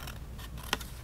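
Scissors snip once, a single short crisp cut clipping a corner off paper for an exploding box craft, close and clear over a quiet room.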